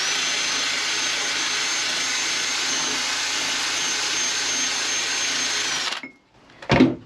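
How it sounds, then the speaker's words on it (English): A small wire wheel on a power drill whirs steadily for about six seconds while stripping old carpet adhesive inside a VW T5 van, then spins down and stops, followed by a short clatter. "So I've got a wire wheel."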